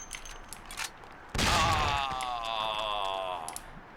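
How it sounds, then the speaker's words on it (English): A police firefight in the Mafia video game: a few scattered shots give way to a loud, sustained volley of close gunfire lasting about two seconds, tailing off into ringing echoes. "Tom blows up the hotel and is caught up in a firefight with the police."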